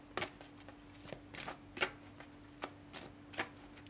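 Tarot cards are shuffled and laid out close by with no one talking, giving a series of quick, crisp riffling bursts and soft slaps at uneven intervals over a quiet, faintly humming room.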